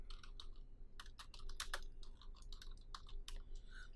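Computer keyboard typing, a quick irregular run of soft close key clicks in bursts, quiet and alone with no talking.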